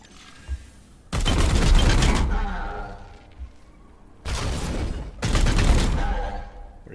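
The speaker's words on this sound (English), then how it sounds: "So this will trigger additional shots." Bursts of automatic gunfire from Warhammer 40k: Chaos Gate - Daemonhunters, loud volleys of additional shots, one long burst then two more after a short gap, separated by quieter stretches.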